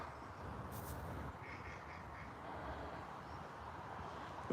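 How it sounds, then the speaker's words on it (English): Ducks or coots quacking on a park lake, a few soft calls heard at a distance over a steady wash of outdoor ambience. "I think that's a coot or duck."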